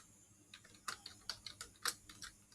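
Light, irregular keystrokes on a computer keyboard, a dozen or so close, crisp clicks tapping out a short burst in a quiet room.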